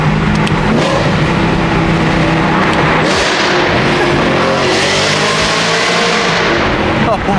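A BMW E92 M3 engine revs loudly and steadily up close from inside the car, a dense continuous roar with shifting pitch that holds for the whole stretch, while people talk over it.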